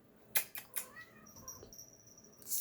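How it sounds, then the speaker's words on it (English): A pet cat gives a few short, quiet meows in a hushed indoor room, separated by small clicks and soft rustling, ending in a brief burst of noise. "This is my cat."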